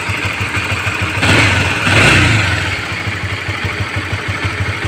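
Honda CB150R motorcycle engine idling after a cam chain tensioner replacement, a steady close putter that rises briefly in a short rev before settling back to a smooth idle.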